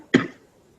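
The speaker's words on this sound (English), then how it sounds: "I'm sorry you're still coughing." One short, sharp cough bursts out close by and fades within a fraction of a second into quiet.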